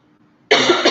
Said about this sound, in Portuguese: Ai, gente, minha tosse não vai embora nunca mais